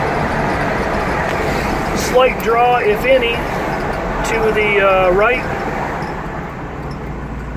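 Steady road and engine rumble from a 1976 GMC Jimmy driving along, with someone talking over it.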